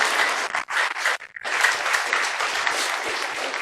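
Loud congregational applause breaks out during a church service in praise of God, brief gaps early on, then thick sustained clapping from a full room.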